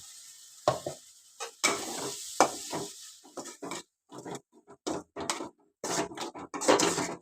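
Ground masala for a bitter gourd curry sizzles in a pan, crackling in irregular bursts with stirring scrapes and short quiet gaps between them.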